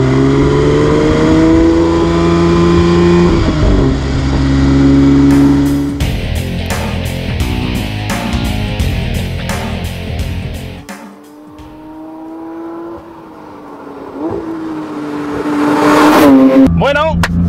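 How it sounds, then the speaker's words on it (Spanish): A 2024 Porsche 911 GT3 Touring's flat-six boxer engine, loud and close, revving up in rising sweeps with sharp gearshift breaks and crackles, dropping briefly quiet before climbing again toward a final surge. "Damos vida al 6 cilindros boxer"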